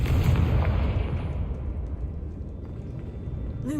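A Confringo spell blast in Hogwarts Legacy lands as a deep, booming explosion with a rolling low rumble that fades over a few seconds, followed by a faint magical whoosh at the end.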